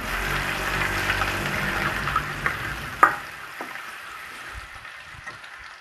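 Onion frying in a pan with garlic and curry leaves, a steady close sizzle with occasional clinks and taps of a stirring spoon, fading slightly toward the end.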